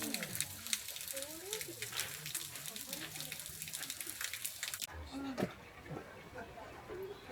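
A small waterfall trickles and splashes steadily in a moss garden at a Kyoto temple. A person talks quietly over the flowing water.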